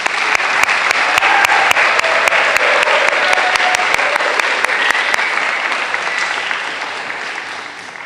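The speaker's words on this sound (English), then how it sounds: "please give them and yourselves a healthy round of applause" A school assembly audience at a Stanstead College spring athletic event breaks into loud, full applause, a dense wash of clapping with a few sharp, prominent claps near the front, slowly tapering off toward the end.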